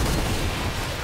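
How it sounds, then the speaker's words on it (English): Explosions from an item build in the video game Risk of Rain 2, a dense continuous roar of overlapping blasts and rumbling booms filling the whole moment at loud volume. "Oh, all the explosions that go off from this build."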